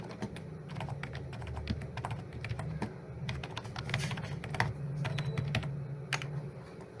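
Steady typing on a computer keyboard while entering network settings for a static routing setup, a close, irregular patter of key clicks with occasional louder strokes and no talk.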